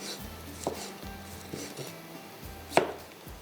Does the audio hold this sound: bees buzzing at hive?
no